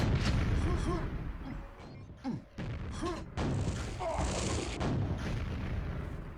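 A weapon shot hits a pillar in a QuakeWorld duel, with repeated thumping blasts and impacts amid constant gunfire-like bursts, faint under a voice.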